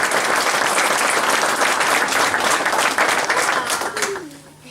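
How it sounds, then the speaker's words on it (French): Audience applause at a mayor's New Year address, dense steady clapping from a hall crowd that holds strong for several seconds and then tapers off, with a voice faintly underneath. "il faut l'applaudir bien fort."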